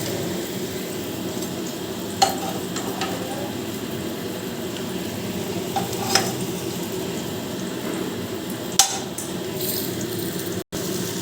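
Round-cut teasel gourd slices frying in a pan, making a low steady sizzle with a few brief clinks and spatters over a quiet kitchen background.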